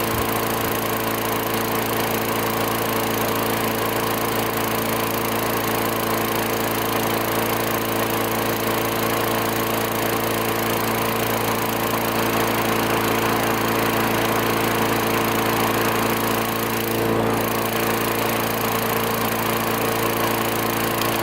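A small engine fitted with a new muffler runs steadily for the whole stretch, a continuous muffled drone with an even hum and no talking.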